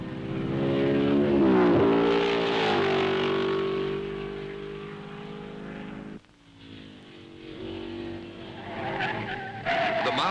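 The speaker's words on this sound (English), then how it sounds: "Britain's #1 driver Stirling Moss, and the two fastest drivers drive the world's fastest car round the tree-lined circuit of Spa" 1955 Grand Prix race cars race round the tree-lined Spa circuit in Belgium, loud engines rising and falling in pitch as they pass, with a sharp cut midway and another car roaring in near the end.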